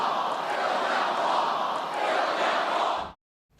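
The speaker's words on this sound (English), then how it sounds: "The crowd was chanting, "Build that wall."" A large crowd at a Trump rally chants "Build that wall" in a loud, dense, continuous roar that cuts off abruptly near the end.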